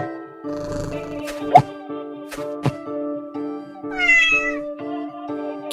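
A cat meows once, clear and upward-gliding, in a children's animal sounds app, heard over bright looping background music with a few soft plops and taps.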